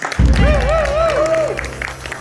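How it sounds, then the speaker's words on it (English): Audience at an improv comedy show applauding, a burst of clapping with a voice briefly rising and falling over it, then settling into a steady patter. "Give me a round of applause."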